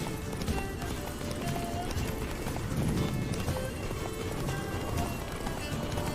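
Hooves pound in a rapid galloping rhythm in The Witcher 3, beneath a busy, steady mix of game sound, with a voice faintly present.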